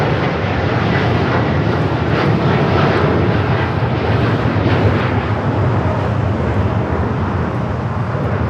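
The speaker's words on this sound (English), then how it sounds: "This is United Airlines Flight 39 taking off to Tokyo Haneda on the 787-10 Dreamliner" A heavy United Airlines Boeing 787-10 Dreamliner roars steadily on takeoff at LAX, a loud, continuous broadband jet-engine rumble holding for the whole stretch with no voices over it.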